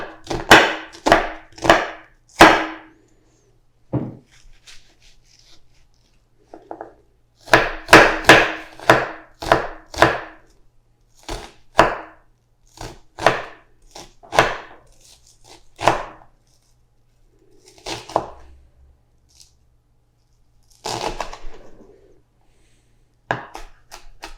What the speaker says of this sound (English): Now we are going to mince the shallots.